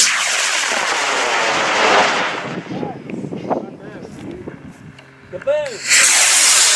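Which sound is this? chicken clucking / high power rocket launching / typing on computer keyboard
high power rocket launching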